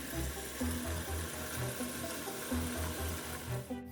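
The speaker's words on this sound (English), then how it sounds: "Prepare a very clean cup and then fill it with cold water." Cold water runs into a clean cup for a kimchi brine, a steady splashing flow under soft background music with repeating low notes, lasting the whole stretch until it stops abruptly at the end.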